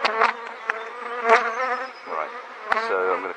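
Honeybees buzzing close by while a top bar hive, left untouched for three years, is opened in spring; a steady, layered drone of many wings swells and dips throughout with no talk.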